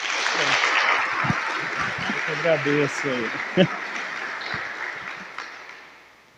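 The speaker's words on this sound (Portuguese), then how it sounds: "Vamos acolhê-lo com uma salva de palmas." A church catechesis audience claps in welcome, a sustained wash of applause from many hands that gradually fades out, with a voice speaking briefly over it partway through.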